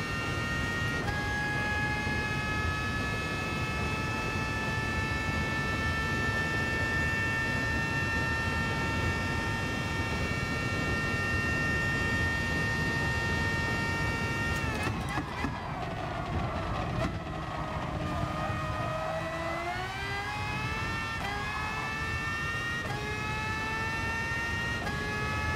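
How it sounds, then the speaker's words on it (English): A racing car engine in the video game GT Sport whines at a steady high pitch, then drops and climbs again through gear changes, loud and continuous without speech. "it's the high-pitched sound that's probably annoying people. It's just the car"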